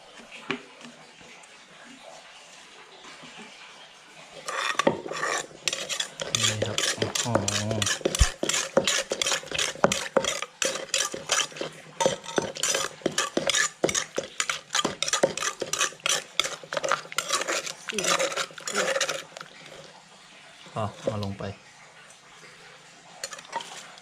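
Boiled fermented fish sauce is stirred in a pot, producing a long run of rapid, rhythmic utensil clinks and scrapes against the pot, loud and close. Brief voices are heard near the end.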